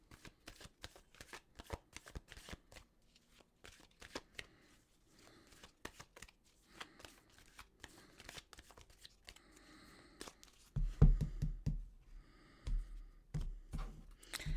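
A deck of tarot cards is shuffled by hand in a quiet room, with rapid, crisp riffling clicks and flutters repeating for several seconds before a louder, fuller burst of shuffling near the end; no voices.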